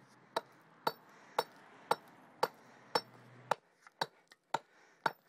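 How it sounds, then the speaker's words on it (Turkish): Axe blows cutting a quarried stone block into shape, a steady series of about a dozen sharp, ringing strikes roughly half a second apart, close and clear over a low background hum. "Tekrar pergelle şekil belirlenip baltayla kesiliyor."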